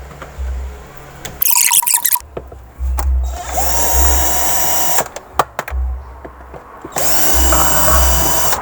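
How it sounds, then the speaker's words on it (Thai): An electric drill whirs in several loud bursts separated by short pauses while taking apart a two-door Hitachi refrigerator, with high squealing and clicks between runs. "เดี๋ยวเอาสว่านแป๊บ"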